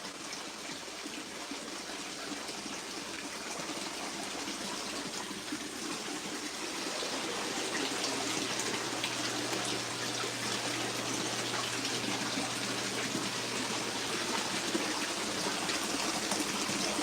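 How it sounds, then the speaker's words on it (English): Water running steadily into a 1300-gallon indoor basement pond, a constant close splashing wash with a low hum joining in partway through. "Is this an indoor pond? Yes, it is. It's down in my basement."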